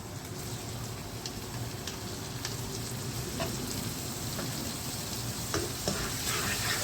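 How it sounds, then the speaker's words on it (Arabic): Mushrooms frying in a pan with chicken in a creamy dish, a dense continuous sizzle with occasional sharp pops and light stirring clicks, close and steady, no voices. "الحين راح انزل المشروم اللي عندي"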